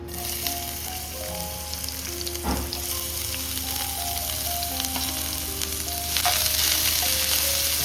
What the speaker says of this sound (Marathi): आणि कांदो घालते फोडणी